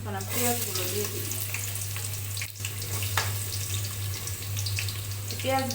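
Onions sizzling and frying in oil in a pot with bay leaves, cardamom and garam masala for homemade biryani, a steady close hiss with occasional stirring clinks, no talk.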